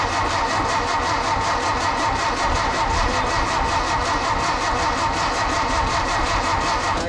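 The 25 hp Volkswagen motor of a 1952 barn door ambulance cranks and runs in a continuous, loud mechanical churn with rapid pulsing, close by and without talk.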